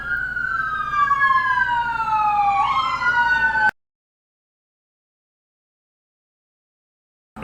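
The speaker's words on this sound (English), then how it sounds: "But we were having sirens too." Police siren wailing and sweeping in pitch, moderately loud and steady with no talk over it, cutting off abruptly to silence partway through.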